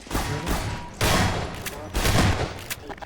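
Bursts of automatic gunfire in the video game Half-Life 2: Episode 1 come in three loud, rapid volleys, dense and close, with short gaps between them.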